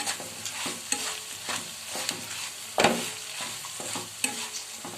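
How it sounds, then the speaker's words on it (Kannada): Four crumbled idlis go into a hot oil tempering in a pan and are stirred, a steady sizzle broken by repeated scraping strokes and one louder clatter midway. "ಇವಾಗ ನಾವು ಇದನ್ನೇನು ಪುಡಿ ಮಾಡಿಟ್ಕೊಂಡಿದ್ವಲ್ಲ 4 ಇಡ್ಲಿ, ಅದನ್ನು ಇಲ್ಲಿ ಸೇರಿಸ್ತಾ ಇದ್ದೀನಿ"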